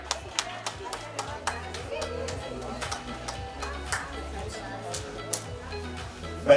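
An audience at a forum claps in a steady, continuous patter of applause at moderate volume, while a host keeps talking over it.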